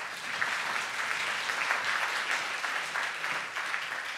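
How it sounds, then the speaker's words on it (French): An audience at an award ceremony in Gland claps steadily, a dense patter of many hands heard from a moderate distance, sustained without pause. "Oui, on applaudit encore."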